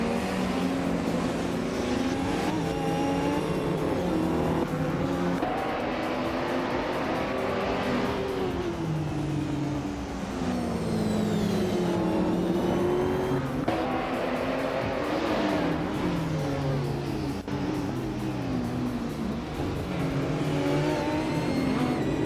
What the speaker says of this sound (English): Dale Earnhardt is starting on pole, driving a classic 1989 Ferrari F40 competition